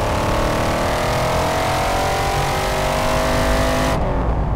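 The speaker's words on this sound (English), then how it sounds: "let's see if that Aston Martin V8 magic is there" A restored 1960s Aston Martin DBS V8 on an early road test pulls hard under acceleration, its engine note climbing steadily and loud from inside the car before cutting off abruptly near the end.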